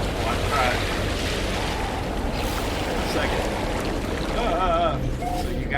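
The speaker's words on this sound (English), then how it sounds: "You know, the waves coming in" Ocean waves rolling in at a player's base in No Man's Sky: a steady, loud wash of surf and wind-like rush throughout, with faint tonal game sounds and someone talking intermittently over it.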